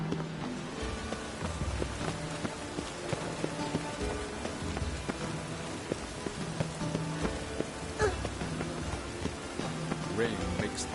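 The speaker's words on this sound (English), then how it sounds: "Rain makes this city even more dreary." Steady rain falls on a city street in a PS3 video game, a dense, even patter of drops with scattered louder splashes, continuous and fairly soft.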